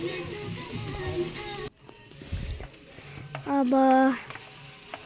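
Tomatoes and turmeric fry in a pan while being stirred, giving a steady close sizzle and scraping, briefly interrupted, with a short spoken word and a brief tonal squeal near the end.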